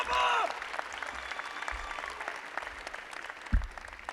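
Graduating class at a high school commencement applauding and cheering for their parents, a scattered crowd clapping at a distance after a brief loud burst at the start, with a thump near the end.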